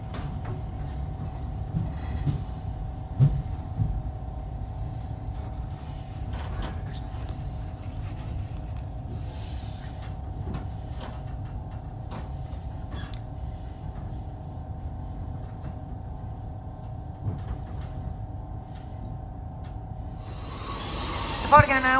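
Great Western Railway train from Plymouth to Penzance running through Cornwall, heard from inside the carriage as a steady low rumble with a sustained hum, occasional clicks and creaks, and brighter wheel noise rising at the end.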